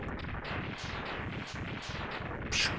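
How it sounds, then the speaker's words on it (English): Rapid gunfire from a gun in a video game, a steady rhythmic stream of muffled shots at a moderate distance, ending with a sharper burst. "Stop shooting your little gun."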